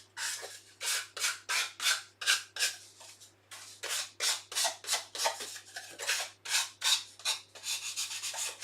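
Hand sanding the furry edges of a dovetailed wooden apothecary chest with 320 grit sandpaper: about twenty quick, rhythmic rasping strokes with short pauses, fairly quiet and close, with no talking.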